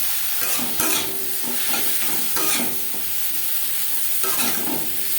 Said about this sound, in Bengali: আম হালকা করে ভেজে নেব হালকা করে